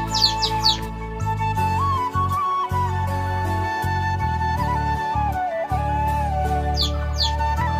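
Pigeons in a coop holding a baby pigeon, with repeated chirps and squawky calls over a steady hum, fairly close and loud, and no talking.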